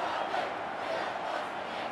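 A stadium crowd at a 2020 AFL match between Essendon and Melbourne roars steadily and loudly, a dense wash of cheering and shouting after a goal.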